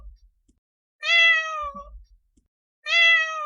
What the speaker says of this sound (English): Cat is the right answer.